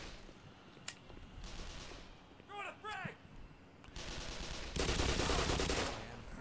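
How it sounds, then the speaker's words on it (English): Gunfire from the video game Black Mesa comes as scattered single shots and rapid bursts at varying distances, with a louder sustained volley near the end and a short voiced sound in the middle. "Who are they shooting at?"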